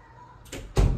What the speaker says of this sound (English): Close the door, sir.